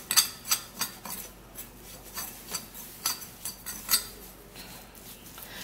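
A spoon scrapes and clinks against a bowl as rice powder is mixed into extracted aloe vera gel, giving a steady run of close, light stirring taps and rasps at an irregular rhythm with no voices.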